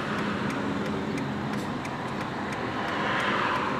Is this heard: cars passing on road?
yes